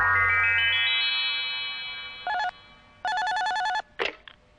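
In a Doraemon cartoon, an electronic telephone ring starts with a rising, warbling chime, then sounds in short, bright, repeated bursts before a click and a rattle as the handset is answered.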